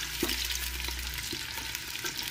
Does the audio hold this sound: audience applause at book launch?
no